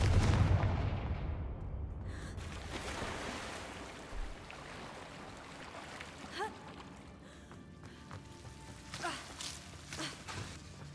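A Confringo fire spell explosion in Hogwarts Legacy, a heavy booming blast at the start that rolls off into a long rumbling decay, followed by a few fainter crackling hits.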